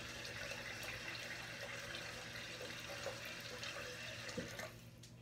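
Water runs steadily from a bathroom tap as someone rinses their face over a sink, a close, continuous splashing stream with no talking.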